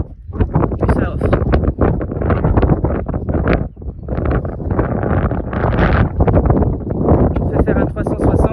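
Wind gusts across an open rocky hilltop at La Roche de Solutré in France, roaring and buffeting the microphone loudly and almost without pause.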